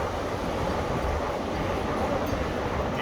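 Powerful gusts during a storm in the Ohio Valley whip trees around, producing a dense, loud, unbroken roar of wind and rushing foliage close to the microphone.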